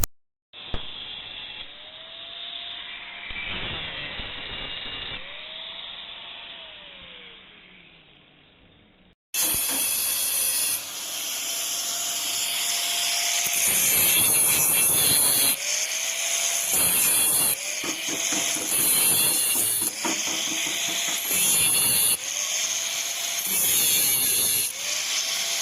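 Starter solenoid being cut open by a welder: a loud, continuous hissing roar that starts abruptly and keeps pulsing as the cut goes on, after a quieter stretch of background noise at the start.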